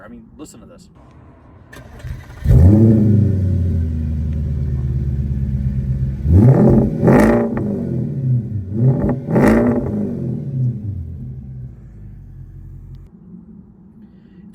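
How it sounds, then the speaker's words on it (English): Audi S5 with an AWE exhaust cranks and fires into a deep, loud idle, then revs sharply three times before settling. Someone speaks briefly before it starts. "this is a awesome sounding motor"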